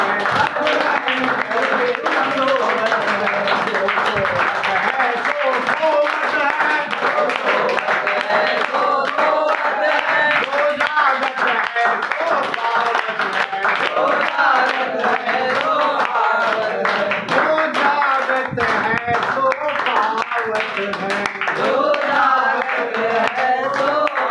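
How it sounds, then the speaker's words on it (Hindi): A crowd at an International Yoga Day 2025 performance by Madhav Yoga Ashram claps steadily in rhythm along with a sung bhajan, dense and continuous for over twenty seconds, with the singing and music running underneath. "भजन तो एक बहाना था हमको आपसे ताली बजवानी"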